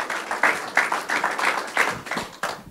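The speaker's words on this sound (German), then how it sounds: "Dann lass uns mit einem kraftvollen Applaus den Dr. Michael bitten, auf die Bühne zu kommen heute Morgen." Church congregation applauding to welcome a speaker onto the stage on a morning service, a smaller crowd with individual claps audible in uneven bursts, swelling and fading in waves.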